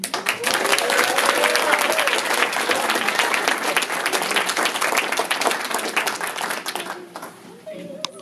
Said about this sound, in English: let's give Kat another round of applause